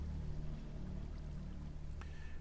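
Lava pours from a bucket in the Minecraft video game as a steady, close, low whooshing gush, with a brief sharp pop near the end and no talking.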